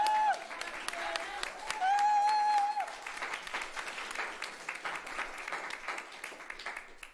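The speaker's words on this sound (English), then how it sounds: "I would like to have a big round of applause for our pianist, Patrick." An audience at a woodwind, brass and percussion honors concert applauds for a pianist, a full burst of clapping that swells, then tapers, with a voice speaking over parts of it.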